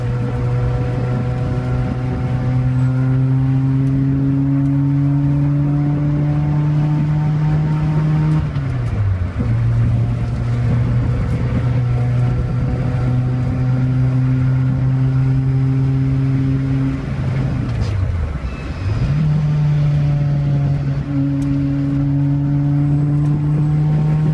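A modified Lotus Elise on an early-morning lap of Road America, its engine a loud, steady drone from inside the car, rising in pitch under acceleration, with two gear changes briefly breaking the tone.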